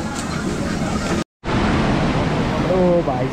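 River water on the route to Yamunotri flowing fast, a loud, broad rushing roar close by, broken by a brief cut of silence, with a voice speaking over it.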